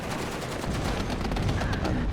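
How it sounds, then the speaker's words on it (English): Red artillery fire striking a cluster of units in the WARNO strategy game, a continuous dense rattle of gunfire and blasts with no gaps, loud and sustained throughout. "While the money shot by the red artillery, hitting right into this blob of units."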